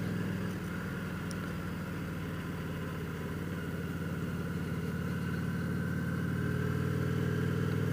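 A motorcycle engine droning steadily while riding on a hot Memorial Day road trip, a continuous low hum with wind rush throughout and no talking.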